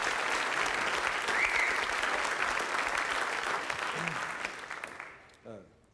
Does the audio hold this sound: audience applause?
yes